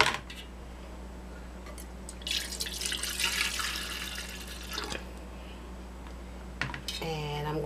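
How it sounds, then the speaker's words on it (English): Melted coconut soy wax pours thinly for a couple of seconds, trickling and splashing softly, followed by a few small clinks and a brief rising tone near the end. "Now I'm going to pour half of it in here."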